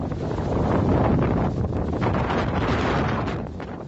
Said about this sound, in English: Fierce wind gusts slamming Playa del Carmen this morning.